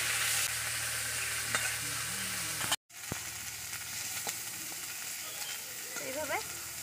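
Neem leaves with turmeric powder and salt fry and get stirred in a pan, a steady low sizzle with scraping stirs, briefly cutting out mid-clip, and faint background sounds with no talking.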